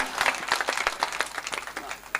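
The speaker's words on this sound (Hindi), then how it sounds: "एक बार इन बेटियों के सम्मान में जरा जोरदार तालियां बजाओ" Audience applause at a Hindi poetry recital, heard as a moderate, fairly distant patter of many clapping hands that carries on steadily throughout.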